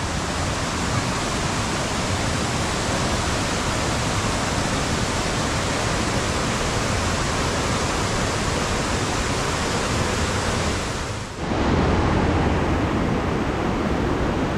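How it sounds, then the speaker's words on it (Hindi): A waterfall near Norbulingka in McLeodganj roars as a steady, dense rush of water, close and loud and unbroken for most of the stretch, with a brief dip and shift near the end before the roar continues. "ये देखिए पीछे का नज़ारा, पूरा वाटरफॉल है पीछे।"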